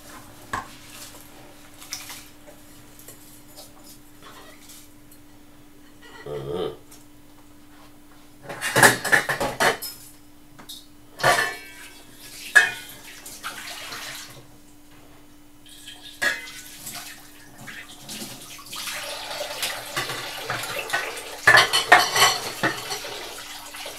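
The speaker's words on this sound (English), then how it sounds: "Now let's scrape out this rice" Cooked rice scraped out of a pot for Jamaican rice and peas, with repeated metal-on-pot scrapes and clanks. Loud bursts come in irregular clusters over a quiet kitchen background, and no one talks.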